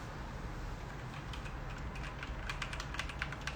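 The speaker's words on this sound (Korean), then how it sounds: "제가 이 아주 기깔나는 키보드 ASMR 해드릴게요" Computer keyboard typing, a quick run of soft clicking keystrokes rising toward the end over a steady background hiss.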